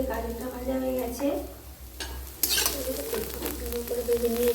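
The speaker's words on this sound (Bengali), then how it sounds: "গাজরটা ভাজা হয়ে গেছে" Long carrots sizzle and fry in an oil-filled wok while being stirred with a utensil, a steady crackle with a sudden louder hiss partway through, under a voice talking in a home kitchen.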